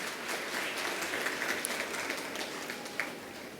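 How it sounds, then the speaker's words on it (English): A school audience at a platinum jubilee celebration gives a sustained round of loud applause, dense clapping filling the hall steadily without pause. "put your hands together and give sister another round of loud applause"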